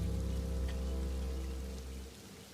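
Rain falling as a sound effect in a horror audio drama, a dense steady patter over a low droning hum that cuts out near the end, leaving the rain alone.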